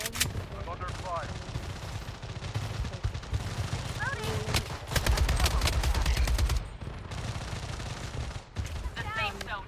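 Gunfire in the shooter game Blood Strike, dense rapid bursts of automatic weapon shots with a heavy sustained volley in the middle, a game voice and player chatter intermittently over the shooting.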